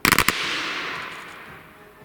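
A volley from Mk I Lee Metford rifles: a cluster of several sharp, loud near-simultaneous cracks in quick succession, followed by a long rolling echo that slowly fades.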